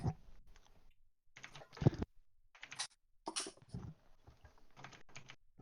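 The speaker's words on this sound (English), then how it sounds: "you can hear them typing." Someone types on a computer keyboard in irregular bursts of clicky keystrokes with short pauses between, fairly close and fairly quiet.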